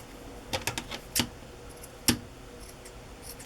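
Dull scissors snip through small felt fabric scraps in a few quick, quiet clicks and a couple of isolated cuts, with soft handling noise between them.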